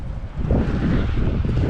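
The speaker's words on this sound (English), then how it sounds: "Man, this wind is something else." Strong wind blowing outdoors beside a storage unit, roaring and buffeting the microphone in heavy low gusts throughout, with no talk.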